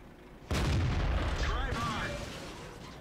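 A single heavy tank cannon shot booms out in World of Tanks, a sudden loud blast followed by a rumbling decay, with faint game sounds and a brief voice under the tail.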